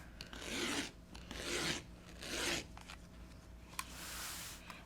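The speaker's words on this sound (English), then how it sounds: "So now I'm going to just cut all 4 sides. I'm just using a rotary cutter." A rotary cutter slicing through fabric for a cross stitch pillow, four close rasping strokes of about a second each, separated by short pauses, quiet and alone.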